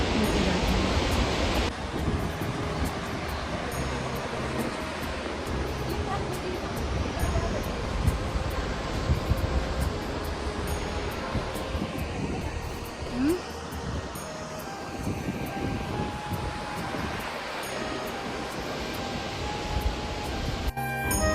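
The Saraswati river joins the Alaknanda at the confluence near Mana village in Uttarakhand, a steady, dense roar of rushing water that holds constant and loud throughout, with no clear pauses.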